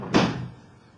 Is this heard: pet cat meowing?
no